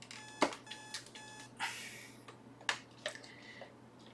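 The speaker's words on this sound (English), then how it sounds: "This alarm is not even set for a time." In a video game, an alarm beeps in short repeated bursts of tones without stopping, mixed with scattered clicks and taps, faint and close.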